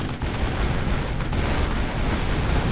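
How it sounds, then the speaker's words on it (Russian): Artillery fire in a World War 2 battle simulator game, a dense, continuous rumble of distant booms and blasts rolling together without clear gaps or speech. "Арта мощная здесь тема."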